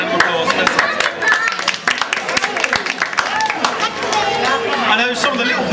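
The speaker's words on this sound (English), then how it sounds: "I'd like just to give yourself a round of applause" Wedding guests clap in a lively burst of applause mixed with chatter and voices, close and continuous throughout.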